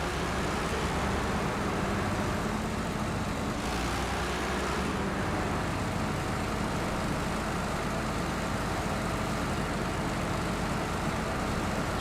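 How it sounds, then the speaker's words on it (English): Loud, continuous drone of a truck engine in the Euro Truck Simulator 2 driving game, a steady low rumble with road noise that barely changes over several seconds, no talk. "It's very loud, this truck, isn't it?"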